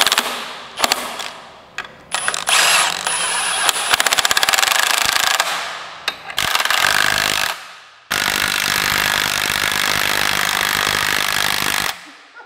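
A power tool runs bolts down against a Volkswagen MK7 Golf R transmission case to force a flange out, with loud rattling impact bursts in several runs separated by short pauses, ending in one long sustained stretch.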